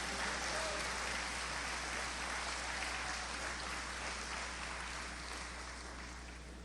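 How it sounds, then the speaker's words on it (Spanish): A church congregation applauds, a broad, even wash of many hands clapping that holds steady and then gradually fades, heard without speech. "¿No le da un aplauso a Dios por eso?"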